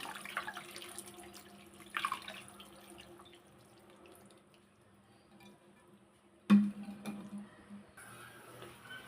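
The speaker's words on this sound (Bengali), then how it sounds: "সেকে সাথে সাথে কিন্তু আপনার ঠান্ডা পানি ঢেলে দিতে হবে এখানে" Cold water running from a tap over strained boiled noodles in a sink, a steady faint pour and splash with a louder gush partway through, no voices.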